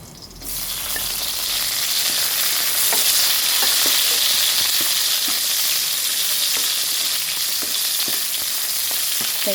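Onion frying in a hot pan for chicken sotanghon soup, a loud continuous close sizzle starting abruptly and holding steady, with faint scattered clicks of stirring.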